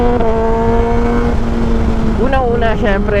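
A Kawasaki ZX6R 600cc sportbike fitted with an SC Project slip-on exhaust idles with a steady droning note, then revs up sharply in quick blips, heard close and loud while someone talks over it.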